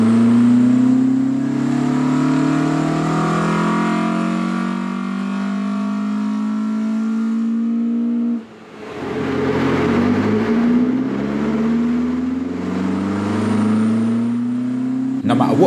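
A Mk1 Escort's engine revs hard and steadily at full throttle on a dyno, its pitch climbing, cutting out briefly, then roaring back up again, loud and close.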